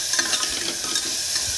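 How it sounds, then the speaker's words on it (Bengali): Potato and bitter gourd frying with onion and green chilli in a home kitchen, a steady close sizzle with soft stirring scrapes throughout and no talk. "এখানে পেঁয়াজ আর কাঁচা লঙ্কা দিয়ে আলু উচ্ছে ভাজা হচ্ছে"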